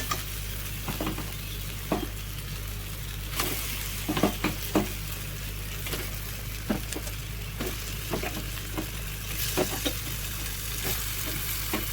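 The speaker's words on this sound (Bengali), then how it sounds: "মশলাটা তো কষানো হয়ে গেছে এবার চিকেনটা দিয়ে দেবো এর মধ্যে" Chicken goes into a pan of sizzling cooked-down tomato masala, producing a loud continuous sizzle with repeated stirring scrapes and occasional utensil knocks against the pan over a low steady hum.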